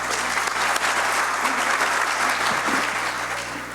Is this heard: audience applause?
yes